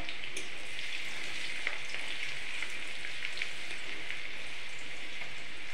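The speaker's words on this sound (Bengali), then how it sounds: "রসুন ফোড়ন দিয়ে রসুনটা প্রথমেই ভেজে নেব" Garlic frying in hot oil in a pan for chilli chicken, giving a steady, close, bright sizzle with faint crackles and occasional stirring ticks, constant throughout with no voices.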